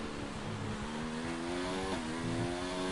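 A race car engine in a racing video game drones with a steady, buzzing tone, climbing in pitch, then dropping briefly at an upshift around the midpoint before rising again; moderately loud, with no voices.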